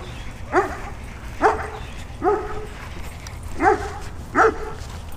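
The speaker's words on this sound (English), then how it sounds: "Look at the size of that freaking dog" A large dog barks five times at a steady spacing, moderately close, beside water in a fishing spot where snakehead and snook are caught on topwater frogs, with low outdoor rumble underneath.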